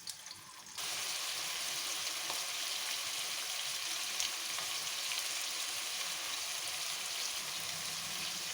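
Stuffed snake gourd frying in hot oil in a kadai, a sudden onset of loud hissing sizzle that holds steady and broadband, with occasional small crackles.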